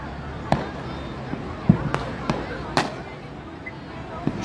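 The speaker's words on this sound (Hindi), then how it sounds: "शानदार आतिशबाजी" Fireworks burst over a seashore during a Chhath Puja celebration, a handful of sharp, separate pops spread across a few seconds, fairly distant, over a steady crowd murmur and background chatter.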